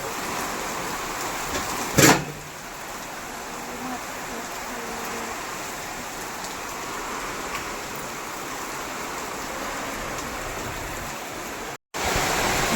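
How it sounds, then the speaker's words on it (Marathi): Heavy monsoon downpour in Pune roars as a dense, constant hiss close by, with one brief thump near the start and a short cut near the end. "पाऊस अचानक एवढा जास्त पाऊस वाढलाय ना खूपच काहीच दिसत नाही"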